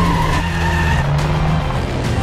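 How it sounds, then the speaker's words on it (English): A record-breaking racing truck, an FIA world-record attempt vehicle, roars past at very high speed with a loud, steady engine howl and a whining tone that shifts slightly as it goes by. "Just below us is probably a new FIA world record breaking truck."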